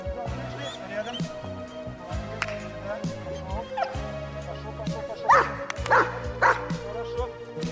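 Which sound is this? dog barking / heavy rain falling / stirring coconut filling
dog barking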